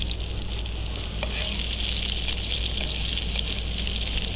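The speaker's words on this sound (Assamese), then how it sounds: "পিঁয়াজখিনি অকণমান ৰঙা হোৱালৈকে ভাজি ল'ম" Onions fry in a pan of hot oil for a sour boroli fish curry, giving a steady, close, continuous sizzle that holds at an even level throughout with no talking.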